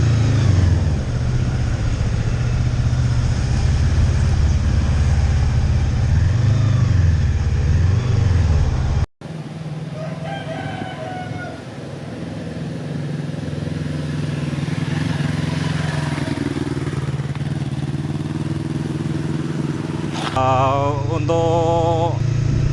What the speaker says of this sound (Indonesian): Kita akan mencoba untuk motor SM Sportnya ini ya